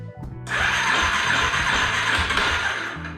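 A car engine cranks with the key turned on after new timing chain work, a loud, steady whirring churn of the starter that does not catch and then drops away.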